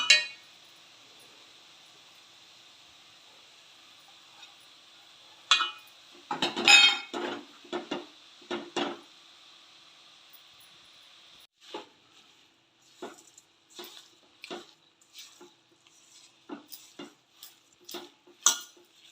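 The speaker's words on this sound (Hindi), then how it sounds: "इसे ऐसे ही हिलाते रहेंगे, चम्मच ऐसे ही चलाते रहेंगे, वरना नीचे लग जाएगा।" A spoon stirs carrot barfi mixture in a pan, giving irregular scrapes and metallic clinks against the pan. Quiet gaps separate clusters of sharp taps.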